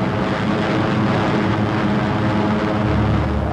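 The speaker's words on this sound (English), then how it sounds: "here are the heavies, giant flying fortresses that drop their tons of high explosives on pinpoint targets" Propeller-driven B-17 Flying Fortress heavy bombers drone overhead in a steady, loud, dense roar of multiple piston engines, sustained without a break.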